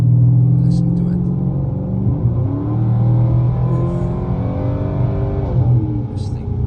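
A 400-horsepower Porsche engine rumbles close and loud, revving up and down through several rising and falling pitches as it accelerates, a steady deep drone throughout.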